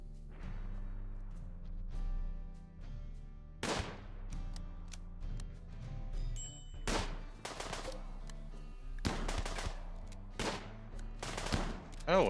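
Shotgun blasts in a cave-survival shooter fighting Xenos and Chaos enemies: sharp, heavy reports arriving in irregular bursts, several close together, over a low rumbling game backdrop.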